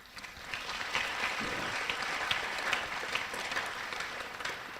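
A debate audience breaks into applause, a full, continuous patter of many people clapping that stays strong throughout, with occasional louder claps standing out and no speech on top.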